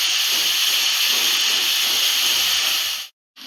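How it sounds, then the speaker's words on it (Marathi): Grated bottle gourd hits hot ghee in a kadhai and bursts into a loud, steady hissing sizzle that holds for about three seconds, then cuts off abruptly. "त्यात टाकलं तूप आणि त्याच्यामध्ये टाकला हा किसलेला भोपळा"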